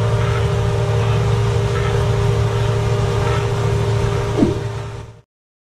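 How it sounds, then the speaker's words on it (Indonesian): A tractor-pulled watermelon harvester runs at about 2 km per hour over a field, giving off a steady, loud engine drone with a constant mechanical hum that ends abruptly. "Pemanen semangka."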